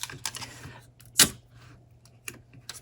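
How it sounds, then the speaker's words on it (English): Small pieces of heat-resistant tape are cut for dye sublimation jewelry work. Light clicks and handling sounds surround one sharp, crisp snip close by, followed by a few fainter taps in a quiet room. "It's very hard to hold this together while you're cutting off these pieces of the heat-resistant tape"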